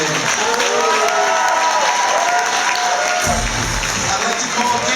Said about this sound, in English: Let's give a big round of applause to Jim Abrams.